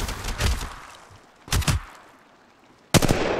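Bursts of gunfire in the mobile battle royale shooter Apex Legends Mobile: three sharp clusters of rapid shots, near and loud, separated by short quiet gaps, with no talking.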